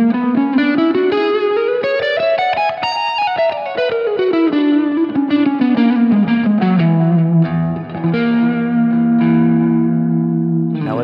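An electric guitar with distortion and chorus plays a flowing Lydian flat 7 line over a tritone chord, the melody climbing then descending steadily over sustained ringing notes, up close with no talking.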